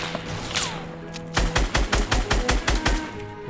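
Light machine gun fire in Fortnite, a rapid run of about eight heavy, evenly spaced shots with deep low thumps, loud and close, following a brief whooshing sweep and background game noise.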